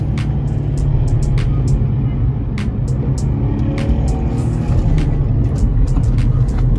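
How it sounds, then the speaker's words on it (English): A car engine hums loudly and steadily in second gear after a downshift on a winding mountain descent toward a hairpin, heard from inside the cabin with a constant low drone and intermittent clicks. "Go straight into second gear right here."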